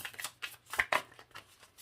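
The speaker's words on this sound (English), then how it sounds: "Let me shuffle this, and we're going to look in the tarot" Tarot cards being shuffled by hand, a series of soft papery riffles and brushing bursts in an irregular rhythm, close and fairly quiet, with no talking.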